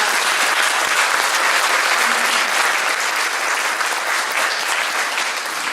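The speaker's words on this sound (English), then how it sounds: "I'd love to give a round of applause to the staff" An audience at a community theater play gives the staff loud, dense, sustained applause that fills the room steadily with no pause.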